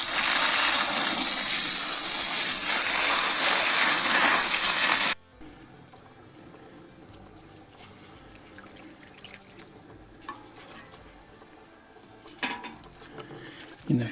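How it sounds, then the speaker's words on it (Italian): Water pours steadily and loudly from a hose or can onto soil and potted plants in a summer garden, then stops abruptly, leaving faint drips and small rustles. "Innaffiare abbondantemente anche i vasi in modo che l'acqua esca da sotto."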